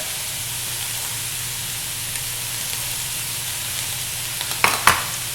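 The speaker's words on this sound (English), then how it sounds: "Stir it around. Add a little bit more, add a tiny bit of butter." Butter sizzles steadily in a pan while food is stirred for papoutsakia, a soft continuous frying hiss with a couple of brief scraping clinks near the end.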